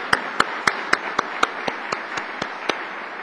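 Applause at an Intel 4004 microprocessor 35th anniversary event honouring the Intel Museum: sparse, sharp hand claps at an even, quick pace, a dozen distinct slaps in a quiet room.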